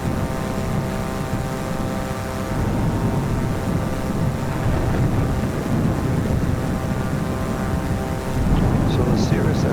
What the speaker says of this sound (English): So the Cirrus SR22 is a fun little plane to fly.